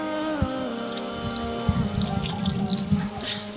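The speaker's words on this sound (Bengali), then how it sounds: "ডান হাত কোনোই পর্যন্ত আমরা 3বার ধৌত করব" Tap water running and splashing over a right hand during wudu, a steady close stream with small drips and splashes as the hand is rubbed, no talking.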